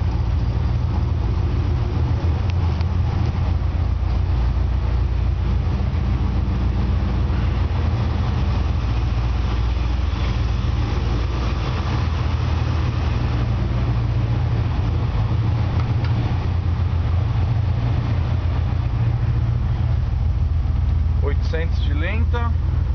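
Steady low rumble of a Dodge engine with loaded lifters idling in a crowded repair shop, constant and fairly loud throughout while someone talks over it.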